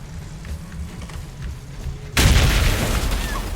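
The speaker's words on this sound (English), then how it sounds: "It's basically just an anti-tank mine, you know, like Battlefield." Anti-tank mine detonating under a vehicle in Cuisine Royale, a single sudden heavy boom that cuts in after a quieter engine rumble and leaves a loud, sustained roar of debris and fire.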